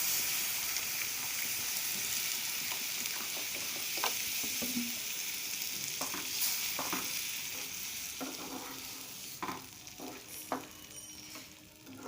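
Semolina and potato fry in a pan as water goes in, giving a continuous hissing sizzle with scattered clicks and scrapes of stirring, with no talking.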